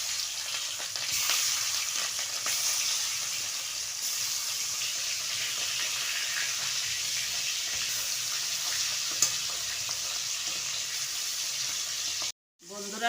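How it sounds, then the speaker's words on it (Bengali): The remaining katla fish pieces sizzle in hot oil in a pan, a constant soft hiss of frying that runs unbroken for several seconds before a brief cut at the end. "এবার বাদ বাকি মাছটাও ভেজে নেব।"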